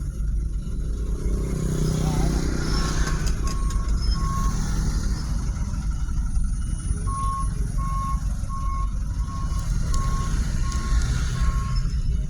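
Large trucks such as dump trucks, trailers, container rigs and Fuso lorries rumble loudly and steadily along a road in Talang Keramat, Palembang, while a reversing alarm beeps in evenly spaced pulses over the engines.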